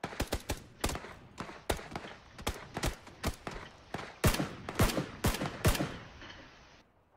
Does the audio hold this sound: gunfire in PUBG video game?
yes